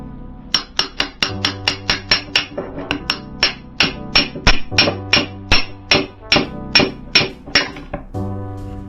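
Hammer striking repeatedly while installing a GT73 clutch on a motor, about two dozen sharp metallic blows in a steady rhythm, close and loud, with faint ringing between hits.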